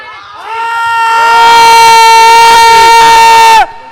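Loud, sustained screaming from several voices at once, a shrill continuous wail that swells and then cuts off abruptly.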